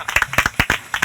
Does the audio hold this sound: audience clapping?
yes